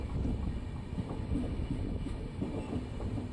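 Passenger train pulling into platform three at Kengeri station in India, a steady low rumble of rolling wagons with faint clickety-clack and wind buffeting, continuous and fairly close with no talk.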